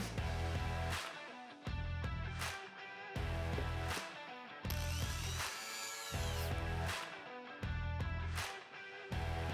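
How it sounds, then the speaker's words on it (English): Power screwdriver backing out a Phillips screw from the side of a Toyota Tundra steering column, in repeated whirring bursts with short pauses between them, loud and close with no talk. "Now remove the Phillips screw."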